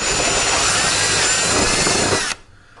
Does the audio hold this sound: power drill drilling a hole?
yes